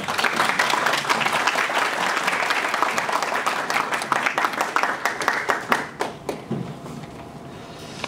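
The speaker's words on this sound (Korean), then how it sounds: "뜨거운 환영의 박수 부탁드립니다." An audience at a Korean policy forum gives a vice minister a warm round of applause, steady dense clapping from a sizeable crowd that thins into scattered claps and fades out after about six seconds.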